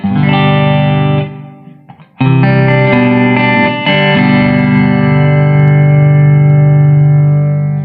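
An electric guitar rings out through a Hot Rod DeVille amp with a Hall of Fame 2 reverb pedal, sustained distorted chords with a short pause, then a loud held chord sustaining with a lingering wash.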